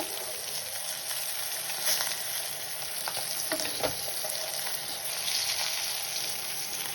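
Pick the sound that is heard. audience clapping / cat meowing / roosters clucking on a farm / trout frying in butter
trout frying in butter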